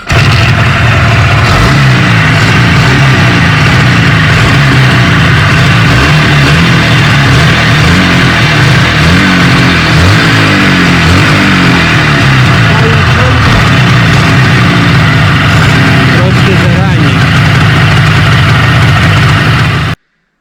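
An old IZh Jupiter 4 motorcycle engine running after being started, a loud, dense, steady close engine drone for about twenty seconds with voices partly underneath, cutting off at the end.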